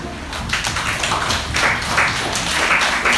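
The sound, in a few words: congregation clapping hands over their heads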